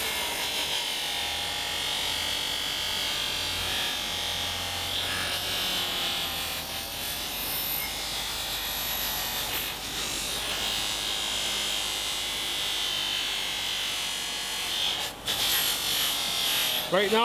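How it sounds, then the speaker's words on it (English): A polishing wheel buffs the sandblasted part of an SU carburetor suction chamber for an MG, giving a steady, loud grinding whir that runs the whole time, with brief speech near the start. "I'm only polishing that part that was sandblasted before"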